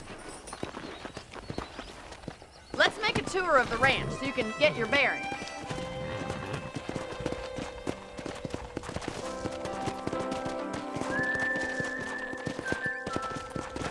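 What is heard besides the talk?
horse hooves and neigh in video game Red Dead Redemption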